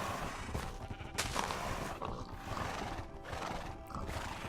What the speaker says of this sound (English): let's go and tame ourselves a horse properly this time